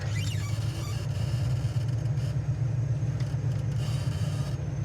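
A 1965 Pontiac GTO cruises down the road, its engine a steady, loud low rumble throughout with continuous road and wind noise, no talking.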